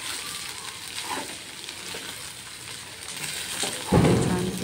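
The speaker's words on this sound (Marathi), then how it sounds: "आणि आता पोहे घालायचे आहे आणि छान असं परतवून घ्यायचं आहे" Poha being stir-fried in an oiled pan: a continuous soft sizzle with scraping stir strokes, close and moderate, and a louder burst of frying near the end.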